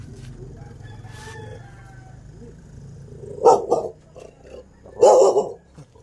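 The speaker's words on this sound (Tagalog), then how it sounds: "Nakagalit sa atin ng aso." Two short, sharp barks from a dog some distance away, separated by a pause, over faint outdoor background noise.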